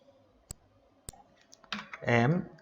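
A computer mouse clicks in an Excel spreadsheet, two sharp isolated clicks about half a second apart, followed by a few softer taps before a person starts talking close to the microphone.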